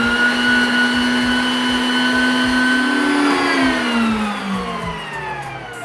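A kitchen mixer runs on high whipping cranberry butter, a loud continuous motor whine whose pitch slowly drops and wavers as the mixture thickens, with no talking.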